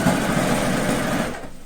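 A sewing machine stitches bias tape along the edge of a patchwork quilt coat, running in one steady close whir before stopping near the end.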